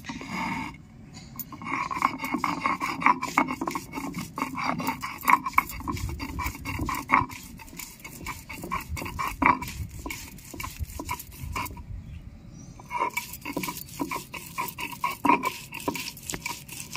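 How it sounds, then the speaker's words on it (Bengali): Soaked lentils are ground on a shil nora grinding stone, giving a continuous rhythmic rubbing and scraping of stone on stone with a wet, gritty texture, close and steady, with brief pauses. "এখন আমি শিল নোড়া বেটে নেব।"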